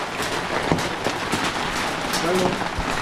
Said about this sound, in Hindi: भाई सर फोड़ने वाले ओले गिर रहे हैं अभी।